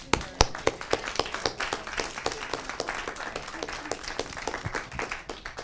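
A poetry reading audience claps in steady, close applause with many sharp individual hand claps, sustained for several seconds without talk.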